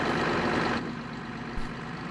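A combine harvester engine in a farming video game runs steadily at close range, a low rumbling drone that drops slightly in loudness partway through, with a brief thump near the end.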